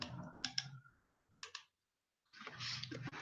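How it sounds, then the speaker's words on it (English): Computer mouse clicks while selecting a code repository: a pair of sharp clicks, a pause, another quick pair, then a longer stretch of busier clicking and rustle, close and clear with no talking. "So I click on my repository, click on clone or download."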